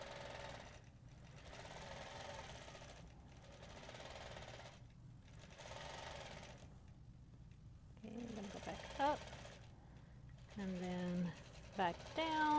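A sewing machine doing freehand quilting in stitch regulator mode, running in steady bursts of rapid mechanical stitching separated by short pauses, close up, with a voice speaking over the later bursts.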